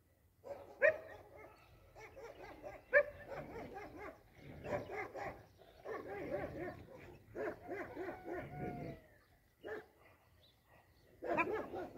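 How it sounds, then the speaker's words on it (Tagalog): Several dogs bark and yip in irregular bursts at middling distance in an open desert setting in the Middle East, with whimpers between barks and no talk over them. "daming aso"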